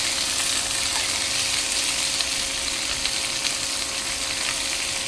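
Chicken pieces with well-browned skin sizzle and spit steadily in a hot sauté pan as they are turned, a dense, even frying hiss that runs close and unbroken with no talk over it.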